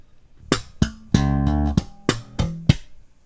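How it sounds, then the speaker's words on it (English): Sharp percussive bass guitar hits, a run of muted dead-note slaps and pops, including a fretting hand slap, with a short pitched double-stop chord in the middle, played alone at close range. "We're then going to play a fretting hand slap to play a 3rd dead note."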